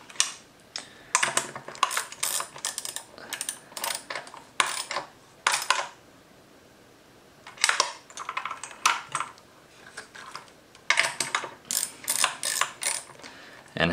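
Ratchet with a deep socket and extension tightening fender eliminator bolts on a 2017+ Yamaha R6, bursts of rapid close clicking separated by short pauses.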